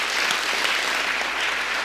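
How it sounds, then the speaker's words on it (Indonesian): An audience claps steadily and densely at a public speaking event, a continuous roar of many hands at even loudness through the short stretch. "Boleh tepuk tangan."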